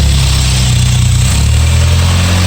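A 1981 Volkswagen Scirocco S with CIS Lambda fuel injection idles loudly and close by, a steady low rumble with a faint shift in pitch partway through.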